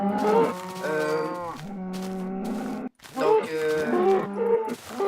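Minecraft cows lowing in a video game, several drawn-out moos following one another with a short gap in the middle, loud and close, with game music underneath.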